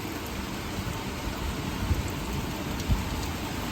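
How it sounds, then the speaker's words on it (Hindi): Steady heavy rain hisses throughout near Dehradun's Sahastradhara Road in the mountains, with a couple of low rumbles of thunder rolling in the background. "बादल ऐसे गरज रहे हैं जैसे लग रहा है यहीं पे बादल फटेगा। और इतनी तेज़ बारिश है"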